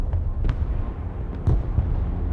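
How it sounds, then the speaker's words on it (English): Artillery fire in the military strategy video game Broken Arrow, a few dull booming impacts with sharp cracks spread across the moment, fairly quiet and distant in the mix. "Artillery on the move."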